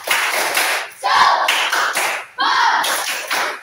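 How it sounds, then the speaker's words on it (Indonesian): A classroom of pupils doing a rhythmic spirit clap together, several quick bursts of close, loud clapping in a patterned beat. "Tepuk semangat dulu."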